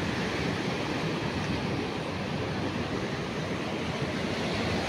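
Heavy surf breaks steadily onto a rocky shore at high tide, a dense continuous roar of crashing waves with wind buffeting the microphone and no voices.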